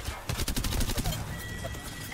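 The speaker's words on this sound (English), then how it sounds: "the other team is shooting me now" Rapid bursts of gunfire in a ranked Apex Legends-style shooter match, a dense fusillade of shots across the first second that fades into lingering game ambience.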